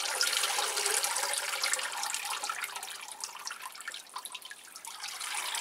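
Water dripping and trickling while plants are watered, a steady wet spatter with scattered drips, fairly close and alone with no talk.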